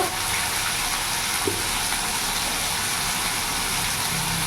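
Potatoes and eggplant fry in a pan with salt and turmeric added, giving a steady, even sizzle with a faint stirring knock midway through.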